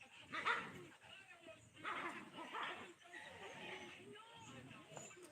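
Dogs in a village scuffle over a female dog, giving repeated barks, yips and whimpers at close range in uneven bursts that run from start to finish.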